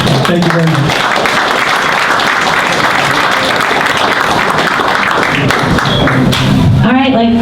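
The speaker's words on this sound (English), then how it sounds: "I'd like to give a round of applause to our panel tonight." A crowd at an evening science talk on wildfires applauds its panel of experts. Loud, dense clapping fills the room throughout, with voices mixing in near the end.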